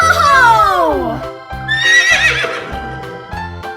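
A cartoon horse whinnies loudly in one long, falling neigh, followed by bright musical tones and a short exclaimed voice in a playful children's animal-sounds setting.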